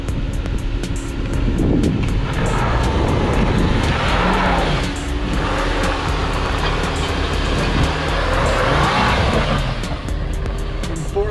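A 2019 Jeep Cherokee Trailhawk drives off-road in 4 low. Its engine drones steadily up close, with clattering bumps, scrapes and brief squeals as it crawls over rough ground.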